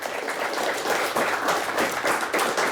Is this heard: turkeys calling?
no